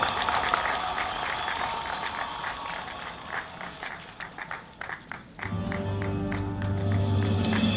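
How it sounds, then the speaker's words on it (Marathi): An audience applauds at a Prerna Murti (Inspire Idol) award ceremony, with steady clapping for about five seconds before it fades into a sustained tonal hum. "एकदा जोरदार टाळ्या होऊ देत"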